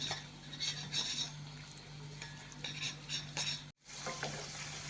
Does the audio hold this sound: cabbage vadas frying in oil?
yes